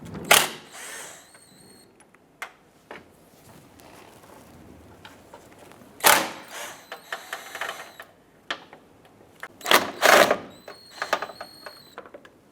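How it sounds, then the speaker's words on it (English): Two 10mm bolts coming off a 2011-2018 Ram 1500 headlight mounting bracket, with bursts of close ratcheting and power-tool whirring between quieter handling clicks. "Next, we want to go ahead and remove these two 10mm bolts here, and there's two on the other side as well."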